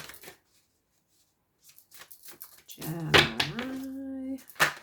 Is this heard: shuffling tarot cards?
yes